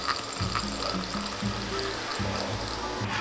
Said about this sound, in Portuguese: Dia 4, adicionamos 30 ml de água filtrada.